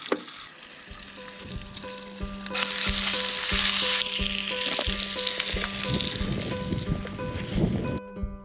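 Bacon sizzles and crackles steadily in a pan over a camp stove on a mountain camping trip, with close, continuous frying and occasional stirring and utensil clatter, and no talking.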